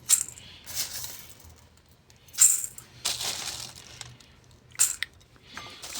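Dry chickpeas are spooned into a container as a few sharp, rattling bursts spaced a second or two apart, close and clear against a quiet room.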